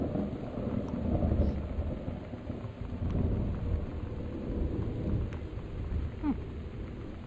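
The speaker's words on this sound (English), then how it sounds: "Thunder's loud, though." Thunder rumbles through a rainstorm in the game Gone Home, a deep, steady roll that fills the whole stretch with low-end weight over the hiss of rain, with no let-up.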